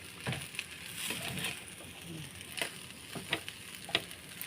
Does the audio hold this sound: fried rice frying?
yes